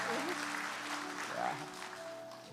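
A church congregation at a Sunday morning service claps together in praise, a steady wash of applause at moderate level that tapers slightly toward the end, with a faint tonal voice or instrument line underneath.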